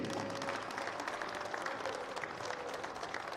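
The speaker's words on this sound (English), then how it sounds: "Let's have a final round of applause for all of our Montreat College basketball seniors" Crowd in a college gym applauding during a senior recognition ceremony at a women's basketball game, steady moderately distant clapping with no talk over it.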